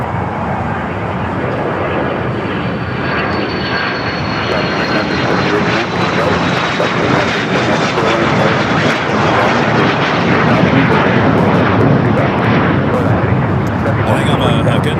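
A propeller airliner departs LAX, its engine roar loud, close and steady for the whole stretch, swelling slightly toward the end, with faint talk from a radio scanner and people underneath.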